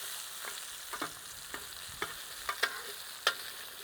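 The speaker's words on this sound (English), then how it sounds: "these stir-fry vegetables are now cooking" Stir-fry vegetables cook on a Mini Gather grill griddle, giving a soft steady sizzle with scattered small pops and crackles, close and fairly quiet.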